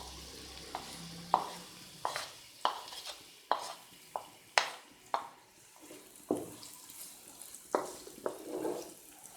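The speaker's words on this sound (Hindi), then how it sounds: "इस प्याज को मैं ब्राउन करूंगी" A large sliced onion browning in hot ghee in a pot sizzles steadily while a spoon stirs it, scraping and clacking against the metal in repeated sharp strokes up close.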